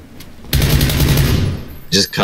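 A dense, loud burst of rapid gunfire from a shooter video game rattles for about a second and a half, followed by two short sharp cracks.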